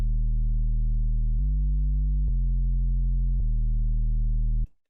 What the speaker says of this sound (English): For the sub, I use this basic sub sine preset in Ableton